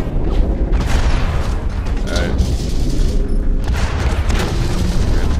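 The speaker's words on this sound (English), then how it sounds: "either he's sniping me or something. He's got a hefty gun." Heavy booming gunfire and mechanical clatter in the mech shooter Hawken, loud and continuous, with dull blasts landing over a dense, rumbling game soundscape.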